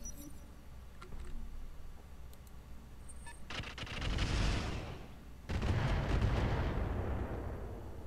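Missile launcher fire from a Thunderbolt launcher in the mech combat game Roguetech (BattleTech), heard as two broad roaring, crackling blasts with no talk over them. The first swells and fades, and a louder second burst follows and sustains.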